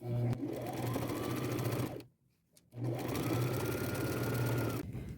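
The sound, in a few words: sewing machine straight stitch around jacket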